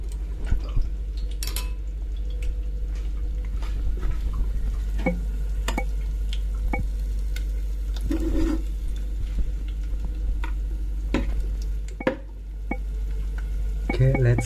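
Chopsticks stir Greek yogurt vermicelli in a bowl, giving a steady run of soft scraping, tapping and wet patter with a few sharper clicks, close and continuous.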